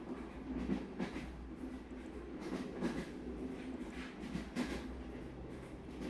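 A train in the video game Wonderful Everyday rolls along its tracks with a steady low rumble and soft rhythmic clacks of the wheels, moderately quiet and continuous.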